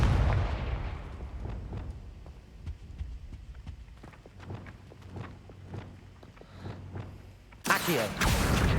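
Confringo fire spell cast in Hogwarts Legacy, a scattered run of sharp game impacts and clicks followed by a loud, sudden blast near the end.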